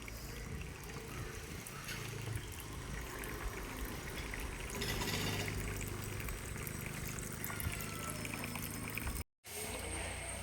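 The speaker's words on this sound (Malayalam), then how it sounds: "ഇതേ നമ്മൾ വെള്ളമെല്ലാം പിടിച്ചിട്ടുണ്ട്. കുറച്ച് ഇത്രയും വെള്ളം മതി" Water pouring and trickling into a tank kept for guppy fish, a faint steady splashing flow with a brief dropout near the end.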